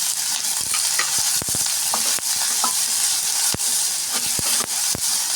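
Green chillies sauté in hot oil in a pan for roasted gram and onion chutney, a constant close sizzle broken by repeated scrapes and clicks of stirring.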